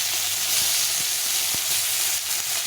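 Tomato frying in a hot pan, a steady broadband sizzle with faint stirring clicks, continuous and fairly close, no voice.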